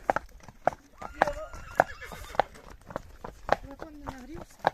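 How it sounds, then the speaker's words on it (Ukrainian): Belgian draft mares in Ukraine give repeated whinnies with hoof clops, close by, and people talk over them. "Отакі кобилки приїхали."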